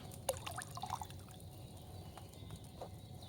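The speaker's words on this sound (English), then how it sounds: "So, what did you pour in there? Wine, of course." Wine is poured from a pitcher into a cauldron in Kingdom Come: Deliverance 2, giving soft liquid splashes and drips, a few brief trickles near at hand over a quiet background.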